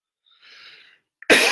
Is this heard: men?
no